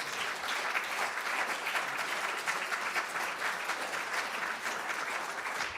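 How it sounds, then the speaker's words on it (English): Steady, dense applause from an audience at a synagogue's 40th anniversary story slam, a full room clapping evenly and continuously at moderate closeness with no voices breaking through. "everyone deserves some self-congratulatory applause"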